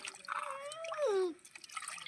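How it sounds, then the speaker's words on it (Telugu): Water poured over freshly dug tubers to rinse away the soil makes a short liquid splash with a wavering, falling tone; it is fairly close and there is no talking. "నీళ్ళు పోసి అలాగా కడుక్కుంటే మట్టి అనేది లేకుండా పోతుంది"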